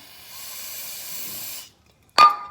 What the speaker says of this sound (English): spray them down with some carb cleaner